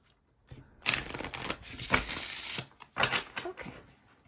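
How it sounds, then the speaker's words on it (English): A deck of tarot cards is shuffled by hand in several quick riffling bursts, close and crisp, separated by short pauses. "I'm just going to do one more shuffle."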